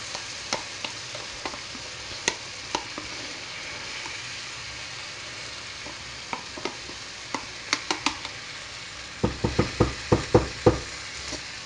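A spoon stirs creme fraiche into beef stroganoff in a pan, with soft scraping and scattered clicks against the metal that quicken into a cluster of taps near the end over a low background sizzle.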